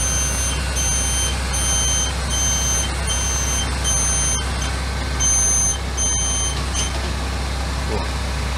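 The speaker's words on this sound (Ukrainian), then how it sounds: "Запихаємо крісло на ліфт і тоді піднімаємо його" A bus wheelchair lift beeps steadily in repeated tones as it raises a wheelchair into the vehicle, over a constant low engine rumble, with voices in the background.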